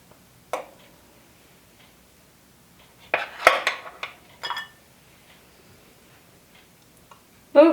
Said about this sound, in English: this little butter knife helps to lift them out of the pan